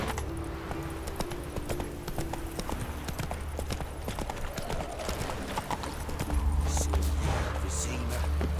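Roach the horse in The Witcher 3 clip-clops along at a steady trot, hooves beating close and continuous over a low game soundscape, the rumble swelling near the end.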